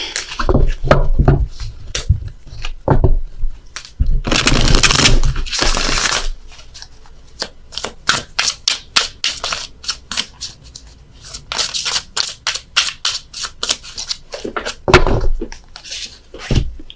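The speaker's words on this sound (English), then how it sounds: "Dropped a load of cards here on the floor, so I gotta shuffle again." Tarot cards are shuffled by hand after being dropped on the floor, giving close, repeated riffling and rustling bursts with soft taps and pauses between runs.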